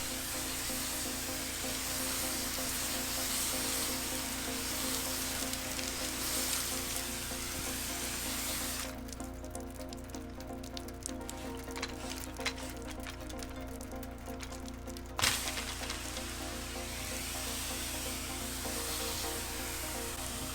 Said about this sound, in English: we'll start up the power washer and I'll show you it in action